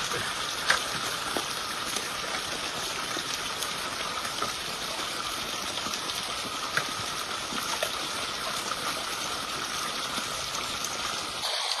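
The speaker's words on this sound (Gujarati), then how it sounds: "આ મગફળીમાં પાણી જાય" Steady rushing flow of irrigation water running into a groundnut field, continuous throughout, a broad even wash with occasional small splashes, fairly close and no voices.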